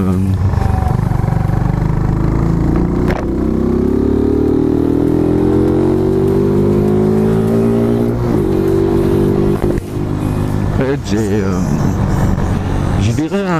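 A Mash cafe racer motorcycle engine with part of the air filter removed rumbles and revs, its pitch rising slowly and holding before a few sharp throttle blips, loud and close.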